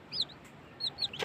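A hen clucks softly beside her six newly hatched chicks, which answer with a few thin, high peeps, all heard up close in a brief moment.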